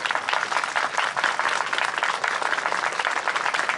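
A large stadium crowd applauds a band after their performance, a loud, sustained roar of many hands clapping that carries on evenly throughout.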